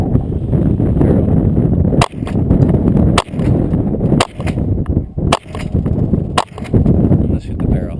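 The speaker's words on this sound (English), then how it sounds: "How about we shoot the wood that's on top of that barrel?" Six sharp cracks from a .22LR subsonic rifle aimed at wood set on top of a barrel, spaced about a second apart over steady low rumble outdoors.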